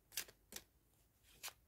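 Tarot cards from the Tarot of the Abyss deck are shuffled by hand with no riffle, giving three short, close papery swishes, the last a little fainter after a pause.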